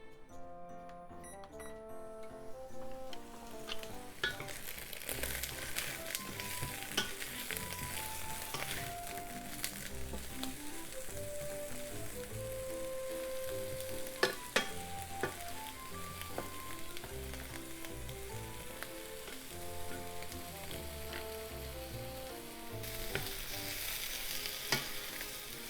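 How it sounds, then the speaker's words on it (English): Ingredients for a pork and eggplant stir-fry with oyster sauce sauté in a pan, giving a continuous moderate sizzle that builds after the opening seconds, with scattered clicks and scraping taps throughout. "Then turn the heat on and saute them until it's slightly browned."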